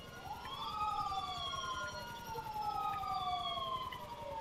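An emergency siren wails in rising and falling sweeps, moderately distant, over a steady low rumble of traffic.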